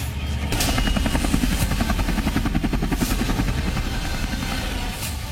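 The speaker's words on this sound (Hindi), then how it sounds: "संगम पर हेलीकॉप्टर से उतरे शूरवीर" A landing helicopter's rotor chops steadily and loudly nearby, its rhythmic thumping and engine whine filling the clip.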